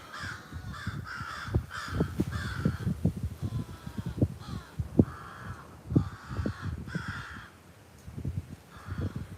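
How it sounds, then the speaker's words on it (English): A bunch of crows caw outdoors in repeated bursts of loud, harsh calls, several birds overlapping at moderate distance with short pauses between volleys. "You got a bunch of crows out here calling"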